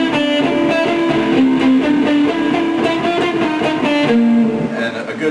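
A distorted electric guitar plays a metal-style riff built on a fretted finger pattern, with steady picked notes running continuously and loud throughout, no voices.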